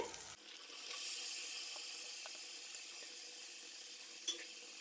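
Chopped carrot, potato and cauliflower go into a hot pan for a mixed vegetable kurma, giving a soft hiss and sizzle after a brief clatter, with a couple of small knocks, and no voice.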